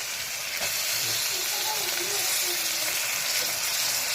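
Tomatoes and green chillies sautéing in a pan for wheat rava biriyani give a steady, close broadband hiss that runs through the whole stretch, with faint tonal clinks in the background and no talk over it.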